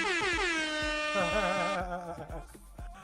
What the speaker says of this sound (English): I love that air horn thing